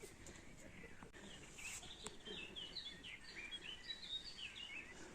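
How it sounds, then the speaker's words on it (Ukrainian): Birds chirping in an overgrown village being reclaimed by forest: faint, scattered high tweets and short calls at a distance over a quiet background rustle, with no talk. "Тут хоч пташки мають роздолі"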